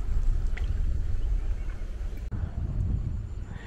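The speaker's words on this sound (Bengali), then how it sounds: "এই যে বোটে করে যাচ্ছি, চারিদিকে স্বচ্ছ জল, তার মাঝখান দিয়ে যাচ্ছি" Boat moving across clear water on a river at Chupi Char, Purbasthali, with a continuous low rumble, water wash and wind buffeting at the microphone.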